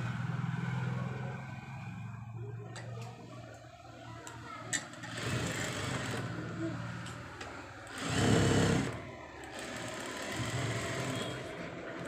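A sewing machine stitching leftover waste canvas pieces onto a design hums and rattles steadily and close by, briefly speeding up midway.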